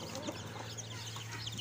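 A purebred Pamaiq straightcomb hen and her newly hatched chicks cluck softly on a farm, with faint chirps over a low steady background hum.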